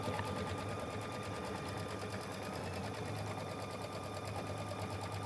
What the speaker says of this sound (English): this takes a few minutes here to stitch out your scallop design on here